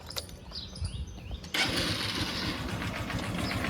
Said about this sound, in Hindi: देखो काफ़ी साइलेंट आवाज़ रहती है वैसे इंजन की, लेकिन यहाँ से टेपिट में से कुछ आवाज़ आ रही है इसके अंदर से।